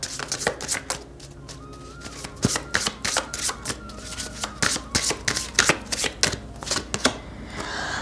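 Tarot cards shuffled and drawn by hand, a steady run of crisp riffling slaps and flicks repeating close up throughout, with no talk over them.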